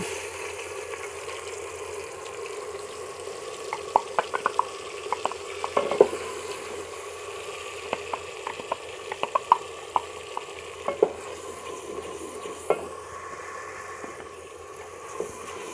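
Steady frying sizzle of onion and garlic paste in ghee, with scattered crackles and pops from hot fat, plus occasional stirring clinks, close up and continuous with no talking.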